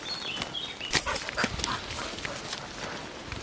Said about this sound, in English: Dog barks clearly.